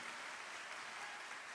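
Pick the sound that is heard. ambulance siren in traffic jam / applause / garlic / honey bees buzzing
applause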